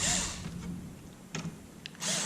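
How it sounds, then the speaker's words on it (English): A power drill set to low torque whirs in short bursts at the start and end while backing plastic screws out of a Dell PowerEdge R820 server, with quieter scraping and clicks in between. "I'm going to use the power drill, so it's set on a very low torque setting because these are plastic screws here."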